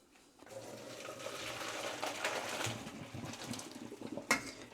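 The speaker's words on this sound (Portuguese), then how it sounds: "Só escorrer a massa." Water pours and splashes steadily as cooked pasta is drained in a home kitchen, with a soft metallic clatter of a pot near the end.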